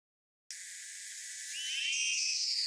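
A cicada-like electric buzzing from the visual novel Fate/Hollow Ataraxia starts abruptly and holds as a bright, steady high-pitched hum that grows slightly louder and shifts in tone.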